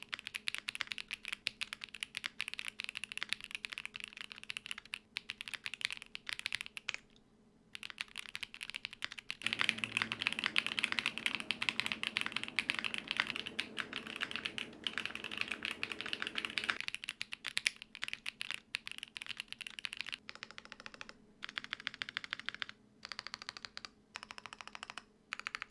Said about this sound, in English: So here's how the keyboard sounds.